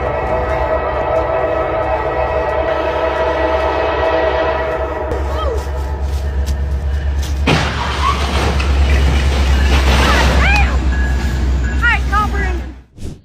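Train at a railway crossing, a loud sustained horn blast over the heavy rumble of the passing train, the rolling clatter of wagons rising midway and continuing until an abrupt cut at the end.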